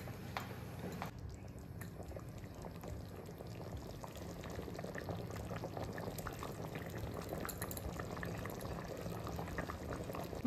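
Mutton curry coming to a boil in a pot, a steady close bubbling and gurgling that continues evenly throughout at low level.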